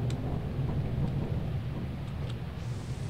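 A thunderstorm rumbles low and heavy in the video game Lethal Company over a constant hiss of falling rain, the rolling thunder steady and fairly faint with no voices.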